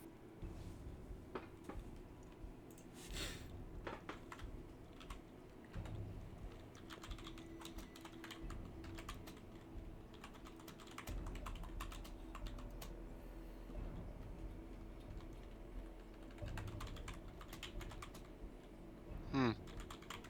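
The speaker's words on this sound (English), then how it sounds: "He's typing." Computer keyboard typing runs steadily through the stretch, a rapid irregular patter of clicks close by, with a faint brief voice once and light background noise.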